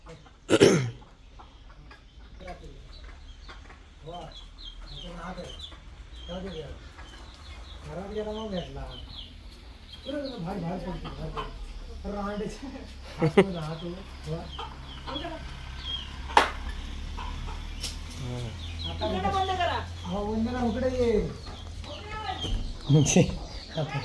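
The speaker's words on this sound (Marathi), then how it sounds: "त्या कोंबडीला पहिला आत पळवायचं आहे त्याच्यानंतर तो कोंबडा आत जाईल" Domestic chickens and a rooster cluck in short, repeated bursts throughout in a village yard, with people talking nearby and an occasional cough.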